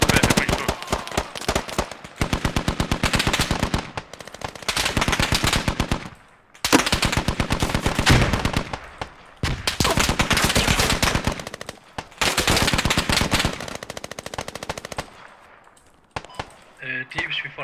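Bursts of automatic gunfire from the Squad military shooter game, loud and close, firing in long sustained volleys with short pauses between them, with scattered shots near the end.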